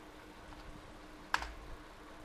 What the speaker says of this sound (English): now control V and press enter from your keyboard, then type Y.